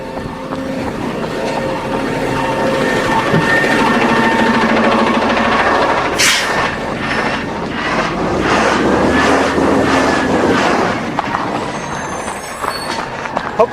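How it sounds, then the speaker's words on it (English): City recycling truck collecting garbage nearby, a steady loud engine and mechanical rumble with clanks and hydraulic whines throughout, no speech. "Hopefully that will be it. One recycle truck."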